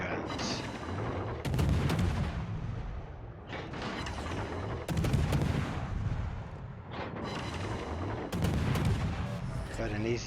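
Big naval guns of the battleship Shikishima fire in a warship video game, with several heavy booming salvos spaced a few seconds apart over rumbling battle ambience and some talking.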